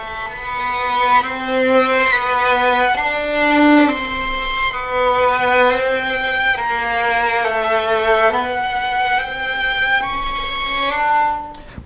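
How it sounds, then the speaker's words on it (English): A violin bowed ponticello, right at the bridge, sustains a steady, glassy and harmonic-rich tone over several connected notes, played solo and close with no talking. "this is called ponticello, which means playing on the bridge"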